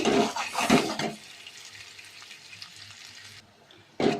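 Spicy chicken being sautéed (kosha) in a pan, a bright frying sizzle with bursts of stirring and scraping near the start, settling into a quieter steady crackle before a short loud stir at the end; no talking.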